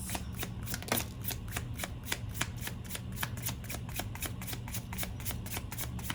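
A stack of reading cards being shuffled fast, with rapid, even riffling snaps repeating close to the listener and a quiet voice now and then in the background.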